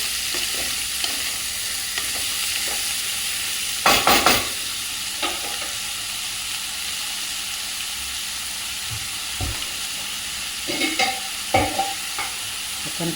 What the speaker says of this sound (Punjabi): ਆਪਾਂ ਲੋਕੀ ਸਬਜ਼ੀ ਨੂੰ ਇਦਾਂ ਫਰਾਈ ਕੀਤਾ